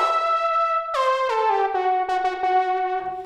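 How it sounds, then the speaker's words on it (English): A synth lead patch from a Repro 1 plays a melodic line on its own, bright and harmonic with gliding pitch steps between notes, loud and close with no talking over it. "I loaded up this lead patch from the Repro 1 again,"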